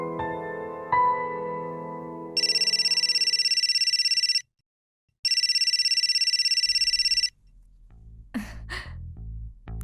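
An electronic telephone ring in a Pakistani drama scene sounds in two long steady bursts with a short gap between, loud and close, after soft music, with rustling afterward.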